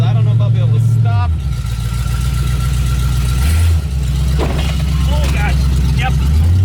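An abandoned Chevrolet El Camino runs and drives on its first outing without brakes, with a loud low engine note that rises and dips with revving, close by, while someone talks briefly over it.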